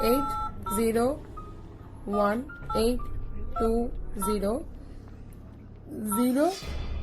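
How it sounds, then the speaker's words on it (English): A telephone keypad being dialed: a series of separate bursts of electronic dialing tones spread through the stretch, with a voice talking between them. "See, now I'm dialing."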